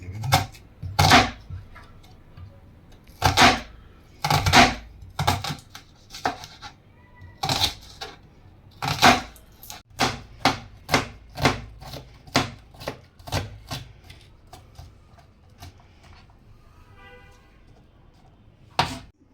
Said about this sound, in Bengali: পেঁয়াজ মরিচ কাটা মোটামুটি শেষ।